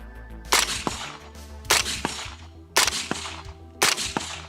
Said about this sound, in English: Oh, dude, this gun shoots great.